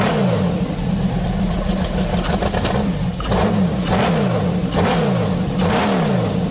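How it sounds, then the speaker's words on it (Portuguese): A Dodge Tomahawk motorcycle with an 8.2-litre Dodge Viper V10 engine revs repeatedly, each throttle blip rising and falling in a steady, loud cycle with no talk over it. "Dodge Tomahawk. Essa é a moto mais rápida já produzida na história"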